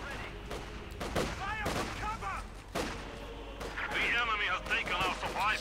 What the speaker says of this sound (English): Heavy mortar beginning to do a bit of damage